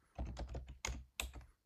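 Someone types on a computer keyboard in quick uneven bursts of soft clicks and thunks, close but quiet, with no talking.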